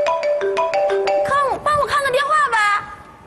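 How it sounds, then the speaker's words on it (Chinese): A mobile phone plays a melodic ringtone of repeated chiming tones that slide into a warbling tune, loud and close, mixed with brief voices in a comedy sketch scene. "你电话"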